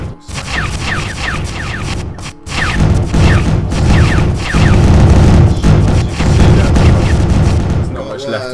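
Rockets fired at a pirate ship in the space game StarMade: a dense run of loud booming blasts and crackling impacts that piles up almost without pause, dropping briefly near the start and again toward the end.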